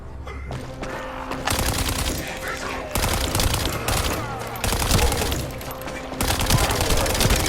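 Rapid hip-fired weapon bursts in the sci-fi looter shooter The First Descendant, dense rattling gunfire in repeated volleys with game effects layered underneath, loud and close throughout.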